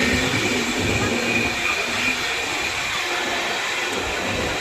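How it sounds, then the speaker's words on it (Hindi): The Jharkhand Swarna Jayanti Express runs alongside on a parallel track, a loud continuous roar of rolling wheels and rail rumble heard from a moving train, with faint squealing hiss. "भाई अपना ये पैरल चल रहा है झारखंड स्वर्ण जयंती एक्सप्रेस के साथ।"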